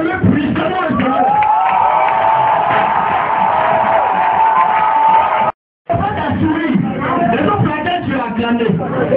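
A church congregation cheers, shouts and acclaims loudly in a dense roar of voices, broken by a brief dropout of silence before the cheering resumes.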